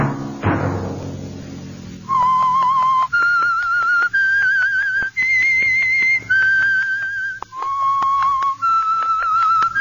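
The whistled theme signal of The Whistler radio show follows a deep opening chord: a sequence of clear, sustained whistled notes stepping up and down in pitch, each held about a second with short breaks, over soft orchestral backing.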